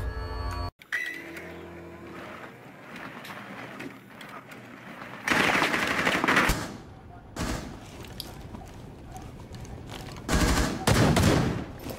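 Shotgun blasts from a first-person shooter video game ring out in several bursts amid other gunfire, with players chatting over the action throughout.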